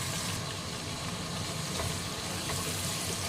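Onions frying in a pan over medium heat, a steady broadband sizzle with soft crackle running continuously at moderate level, no voices.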